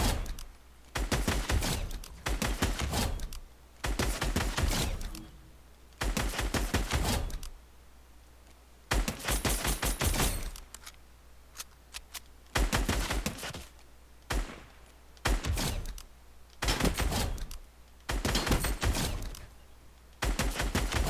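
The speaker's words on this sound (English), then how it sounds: "As you guys can see by me shooting those bots right there" Gunfire in Fortnite as a player shoots bots: rapid bursts of automatic shots come in about nine separate volleys with short pauses between, loud and close, no voices.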